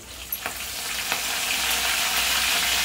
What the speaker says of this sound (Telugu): నూనె కాగింది కదండి. కొద్దిగా జీలకర్ర, కరివేపాకు,